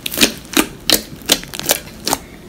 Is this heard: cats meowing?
no